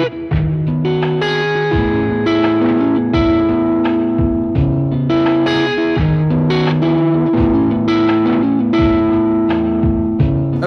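A Squier J Mascis Jazzmaster electric guitar plays loud and close through heavy distortion and effects, strumming rhythmic chords with sustained, ringing notes and no talking.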